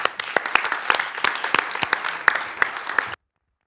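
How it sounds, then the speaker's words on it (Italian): Closing applause at a high-level technology conference in Rome: a room of hands clapping steadily with scattered sharper claps, fairly close, for about three seconds before stopping abruptly. "Io nel ringraziare voi dedico a loro l'ultimo applauso di chiusura."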